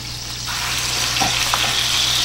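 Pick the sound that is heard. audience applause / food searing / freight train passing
food searing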